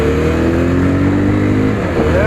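A Bajaj Pulsar 220F motorcycle engine revs loudly and steadily close by, its pitch climbing and sweeping upward near the end, with no talk over it.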